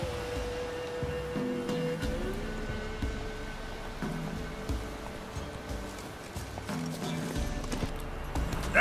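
Roach, Geralt's horse in The Witcher 3, trots with steady rhythmic clip-clopping hooves over a low ambient game background, with faint tonal hums and occasional rustles.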